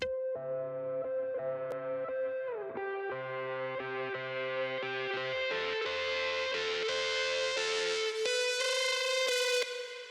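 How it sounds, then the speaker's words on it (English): A self-played guitar pushed hard through amp distortion, saturation and OTT compression for a liquid drum and bass build-up, a dense sustained wall of harmonics rising steadily in pitch and brightness over about ten seconds. "the last element is a guitar I played myself, and I distorted it with an amp and saturation OTT"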